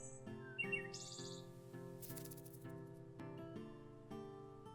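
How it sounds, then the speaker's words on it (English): Bird chirps and tweets from the fantasy strategy game Wargroove ring out over its soft, sustained musical score, a few short high calls scattered through the passage. "Little bird."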